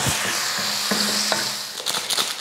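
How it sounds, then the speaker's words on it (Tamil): Vegetables sautéed with a little salt in a pan for a Maggi dish hiss in a steady, close sizzle, with soft scraping stir strokes running throughout. "இதை நல்லா ஒரு 2-3 நிமிஷத்துக்கு நல்லா வதக்குங்க"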